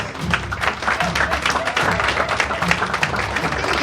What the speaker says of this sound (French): nous pouvons l'applaudir.